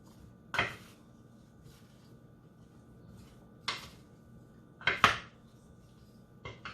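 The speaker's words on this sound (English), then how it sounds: "We're going to mix this up, get it perfectly uniform." Watermelon, cucumber and feta salad being tossed in a bowl: a few separate soft knocks and clatters of utensils against the bowl, spaced by quiet pauses, close but fairly faint.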